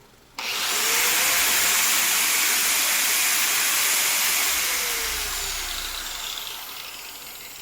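An electric angle grinder powered through an inverter from a car battery spins up abruptly and runs as a loud, steady high-pitched whine, easing off slightly toward the end; no one speaks.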